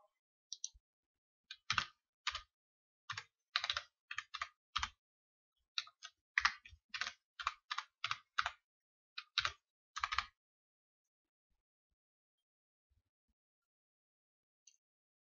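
Typing on a computer keyboard, a series of sharp, close key clicks in quick irregular bursts that stop after about ten seconds, leaving near silence except for one last faint tap.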